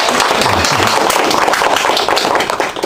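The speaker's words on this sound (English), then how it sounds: "Can y'all give him a round of applause for coming today?" A student speaker's audience breaks into steady, dense applause, many hands clapping together in a continuous loud wash that holds level throughout.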